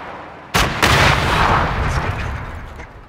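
Gunfire in PLAYERUNKNOWN'S BATTLEGROUNDS, a loud close sharp shot followed by a second blast and a long rolling reverberant tail that fades over a few seconds.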